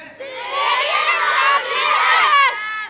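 Schoolchildren cheer and shout in unison for the Silverians at an annual school sports meet. The crowd noise is loud, close and sustained, with excited young voices rising together throughout.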